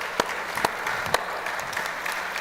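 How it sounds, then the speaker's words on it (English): An audience applauds at a panel event about school sports, a steady dense wash of clapping with a few sharper nearby claps standing out, and no voices. "I think a round of applause probably for me."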